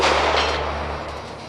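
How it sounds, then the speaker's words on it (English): A .22 nail gun blank fires a Crosman Premier hollow point pellet: one sharp, loud report at the start that fades into a long decaying tail, with no voices. "we're shooting the Crossman Premier hollow point pellets"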